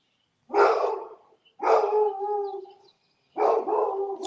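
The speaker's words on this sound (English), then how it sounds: "Hey, what are you barking at?" A dog howls and barks indoors in three long, drawn-out bursts with short gaps between them, close and loud against an otherwise quiet room.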